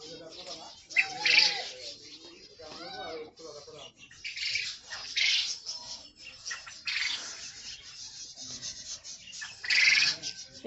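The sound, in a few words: quail birds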